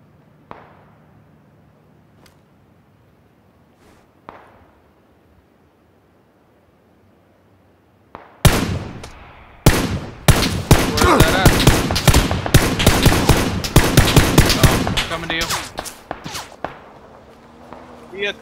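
Rapid bursts of gunfire in a battle royale video game erupt suddenly after a quiet stretch, loud and dense with overlapping shots, while players talk over it.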